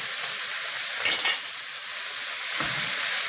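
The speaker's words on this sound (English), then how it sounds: "Let's make sure that it's mixed nicely and allow the mince to cook for a couple of minutes." Minced beef seasoned with garlic and onion powder fries in a pan with a steady close sizzle, broken by a couple of scraping stirs of a utensil, no talking.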